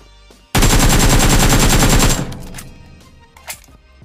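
Loud, sustained automatic gunfire in the Free Fire battle royale game, a continuous burst of rapid shots lasting over a second, followed by fainter scattered game sounds.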